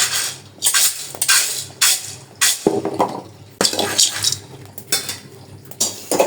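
Wheat grains being dry-roasted in a pan are stirred in rhythmic strokes, each bringing a loud, close scrape and rattle of grains against metal, with short pauses between strokes.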